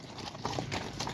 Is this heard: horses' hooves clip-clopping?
yes